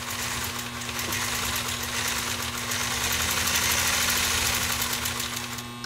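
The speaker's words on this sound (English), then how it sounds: "Throttling it up and down is fun, because if you have a machine that is properly restored, you don't need to go full throttle." A 1958 Singer 99K sewing machine with a 0.80 amp motor stitching denim, its motor whirring in a steady close hum with a rapid mechanical chatter that rises and eases slightly as it is throttled.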